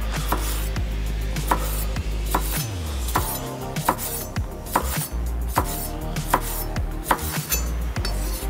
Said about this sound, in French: Pour le piment, on va le couper un petit peu en museau.